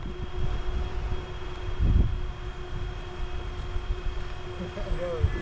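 Battery-powered model airplane flying at a swap meet at Scobee Field, a steady motor drone holding for several seconds at a moderate distance, with a brief louder swell midway.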